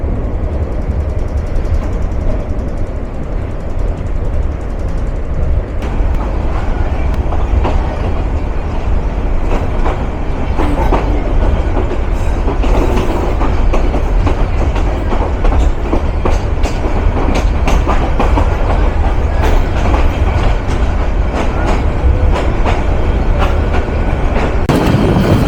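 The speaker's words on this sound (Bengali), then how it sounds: "ছুটে চলছে আন্তনগর অগ্নিবীণা, তার গন্তব্য তারাকান্দি পর্যন্ত" The Agnibina intercity express runs loud and close on its way to Tarakandi, a continuous rumble with rhythmic clickety-clack of wheels over rail joints throughout.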